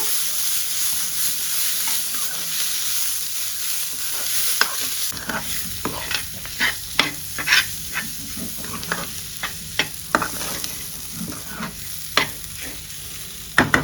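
Tomato, mint and coriander fry in a pan for stuffed brinjal curry, a steady hiss broken by repeated close scraping and clacking stirs, louder and busier in the second half.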